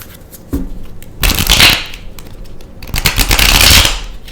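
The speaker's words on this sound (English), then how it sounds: "That was a rough shuffle." Tarot cards shuffled by hand in two long riffling bursts, close and loud, with a short pause between them and no talking.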